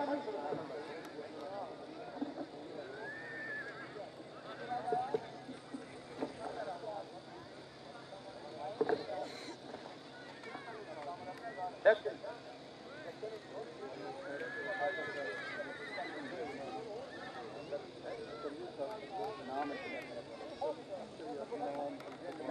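Horses at a tent pegging event, whinnying and galloping hooves mixed under a continuous announcer over a public address system and crowd noise in an outdoor setting.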